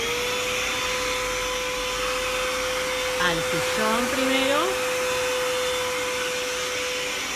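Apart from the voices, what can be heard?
vacuum cleaner running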